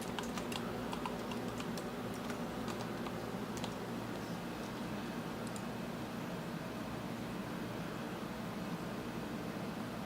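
A password typed on a computer keyboard during a Hackintosh install, with faint, close clusters of key clicks in the first few seconds over a steady fan-like hum that continues alone afterward.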